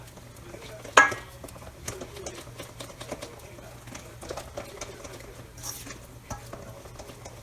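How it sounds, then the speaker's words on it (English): A whisk scrapes and clinks in a bowl as a spoonful of milk is beaten into tiramisu mixture, one sharp tap followed by quieter rhythmic stirring clatter, faint and close. "And just whisk it."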